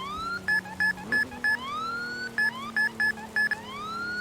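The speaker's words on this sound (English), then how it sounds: "Next thing to show you is the new sirens." A police car siren in the Roblox ERLC video game, a rising wail joined by repeated short electronic beeps in a quick pulsing pattern, loud and up close with no talk.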